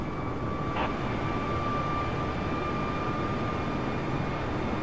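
Steady, loud engine drone of an Airbus A320 climbing in Microsoft Flight Simulator, a constant broadband roar with a faint steady whine and no speech.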